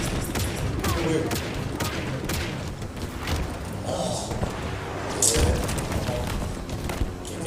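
Video game gunfire, a dense, continuous clatter of shots and thumping booms mixed with engine noise, with voices talking now and then.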